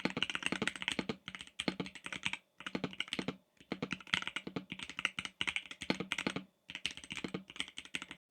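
Typing on a Ducky One X keyboard with induction switches and a dampening system produces quick, close clusters of keystrokes in bursts separated by short pauses, crisp and fairly quiet.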